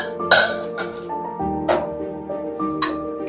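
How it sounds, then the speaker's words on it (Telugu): A metal lid is set upside down on a cooking pot of simmering tomato puree, making a few short clinks and clanks against the rim, close and distinct, over faint kitchen background. "ఇలా మూత రివర్స్లో పెట్టేసి"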